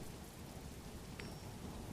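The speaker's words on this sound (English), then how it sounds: "but it's also raining" Steady rain falling in the video game Discovery: Oxygen, a dense continuous hiss of drops with no voices.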